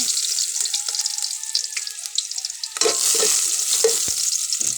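Garlic sautés in hot oil for Filipino ginisang mais, a close crackling sizzle broken by scraping stirs of a utensil in the pan, with no talking.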